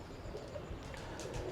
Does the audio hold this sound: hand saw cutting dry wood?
no